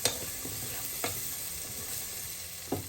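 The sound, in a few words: sweet potato chicken stew ingredients sizzling in pot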